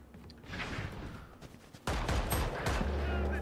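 Judge shotgun blasts in a video game, a muffled stretch of shooting that turns into a louder, sharper burst of fire partway through, with faint voices underneath.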